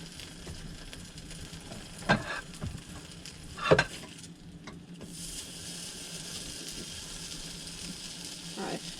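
Garlic bread frying in a pan on a stovetop gives a steady, soft sizzle that thickens into a broader hiss partway through, with a couple of sharper clatters early on.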